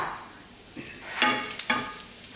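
Garlic fries golden brown in a pan while a utensil stirs it, a soft sizzle under a few quick scraping taps, close and quiet.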